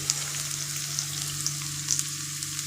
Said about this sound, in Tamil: இப்போ இதில் நம்ம அந்த முளைக்கட்டின வெந்தயத்தை போட்டு கொஞ்சம் வதக்கிக்கலாம்.